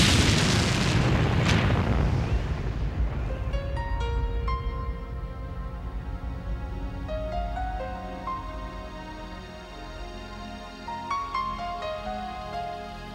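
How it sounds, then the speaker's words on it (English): A sudden booming explosion from a parcel bomb hidden in a toolbox bursts out loud at the start, then its rumble and ringing debris decay into a long, fading tail. "She flipped the latch and lifted the lid, triggering a fatal explosion."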